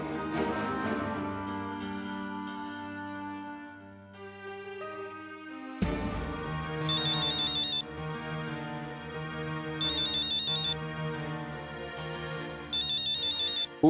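Mobile phone ringtone playing a loud melodic tune with repeating bright chimes, going on for several seconds in an office setting with no talk over it.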